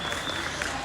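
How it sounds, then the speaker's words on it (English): Brief burst of audience clapping for a presenter at a chocolate expo, a dense wash of claps with crowd murmur underneath. "Can everybody give a big round of applause for Rachel?"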